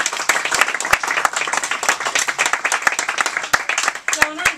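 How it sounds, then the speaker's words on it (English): Steady applause at a poetry reading, dense overlapping clapping from an audience that carries through to the end, with a brief voice near the close. "another round of applause,"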